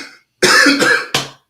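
A man who smokes all day coughs twice in quick succession, a harsh, close, loud double cough followed by a shorter third burst, with no talking.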